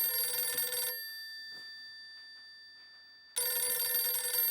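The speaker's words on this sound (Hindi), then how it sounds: "फोन, मोबाइल बज रहा है।" A steady electronic phone ring with sharp high tones plays in two loud bursts, separated by a quieter gap with faint rustling.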